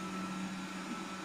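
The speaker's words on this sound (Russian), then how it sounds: "Сегодня наш пылесосик будет делать препятствия" A robot vacuum cleaner running nearby, a steady, even motor whine and airflow hum that holds unchanged throughout, with no voices.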